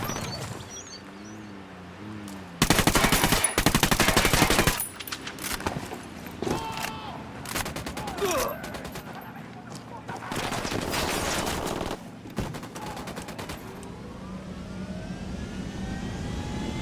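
Bursts of rapid automatic gunfire in Ghost Recon Wildlands, loud sustained volleys separated by quieter stretches, with aircraft engine noise and radio chatter from voices mixed in.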